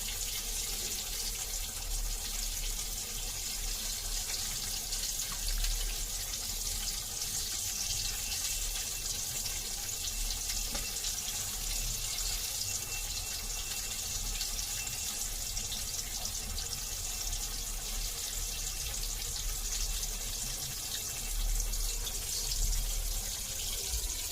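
Pieces of rui fish fry in hot oil for a masala fish fry. They give a constant, close, hissing sizzle that stays even and unbroken the whole time, with no voices over it.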